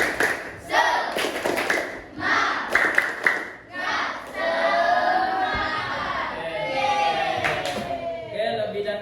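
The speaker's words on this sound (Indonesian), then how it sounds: "Tepuk semangat." A classroom of students doing a rhythmic spirit clap together, with bursts of sharp, patterned claps mixed with loud voices chanting and shouting along, fairly close and lively.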